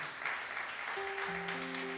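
A church congregation claps steadily throughout, a dense, even patter that runs alongside sustained keyboard or organ tones.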